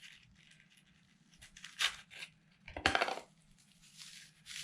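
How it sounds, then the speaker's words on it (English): An African violet is pulled out of its pot, with scattered rustling, scraping and crumbling soil noises, a couple of sharper bursts of handling sound, close by against a quiet background. "So the first thing I'm going to do is pull this thing out of the pot."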